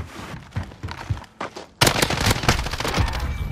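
A rocket launcher firing in a video game, scattered sharp gunfire-like shots, then a sudden loud blast and a dense burst of rapid cracks and bangs that keeps going.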